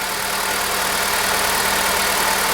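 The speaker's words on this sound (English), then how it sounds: "So with the engine running" A 2001-2005 seventh-generation Honda Civic engine idles steadily and close by, a continuous even hum with no talking over it.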